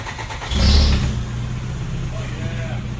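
A BMW E36 drift car's engine cranks and catches, a low rumble swelling briefly to a louder burst before settling into a steady idle, with people talking nearby.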